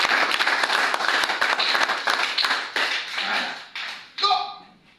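A church congregation at Logos Tabernacle in Pointe-Noire applauds its pastor, with brisk, crowded clapping that keeps a rhythmic patter and then thins into a few scattered claps before a short ringing tone.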